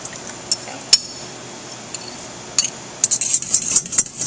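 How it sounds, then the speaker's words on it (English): A fork beats eggs in a bowl for carrot cake batter, first giving a few scattered light clinks and then a quicker run of bright, close tinkling taps near the end, with no talking. "I'm just going to use my fork and slightly beat these before adding them to my oil"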